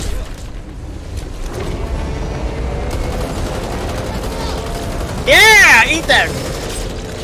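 Back 4 Blood gunfire during a final boss fight, rapid bursts of shots under steady game noise, with excited voices talking over it and a loud shrill creature cry cutting in near the end.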